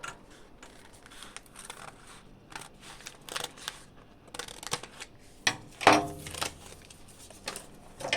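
Scissors snip through a paper sewing pattern for a curved bubu design, a steady run of short crisp cuts and rustles with a few louder paper crunches near the middle, heard close with no voice.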